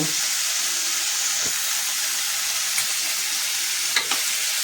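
Potatoes frying in hot oil in a pan for a Bengali poppy-seed dish, a close, steady sizzle and hiss throughout, broken by a few brief clinks of a utensil.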